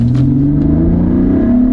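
A car pulls away from a standstill with a loud, close engine rising steadily in pitch as it accelerates hard through first gear, with no talking.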